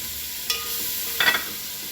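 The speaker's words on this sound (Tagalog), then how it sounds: "ilalagay ko na yung kamatis" Tomatoes go into a hot frying pan, giving a soft background sizzle with two brief clinks and stirring scrapes.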